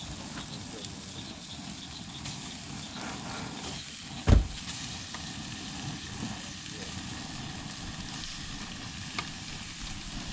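Deer meat sizzles in butter in a pot over high heat, a steady low crackling hiss beneath a rumbling background, broken once by a sharp clunk partway through.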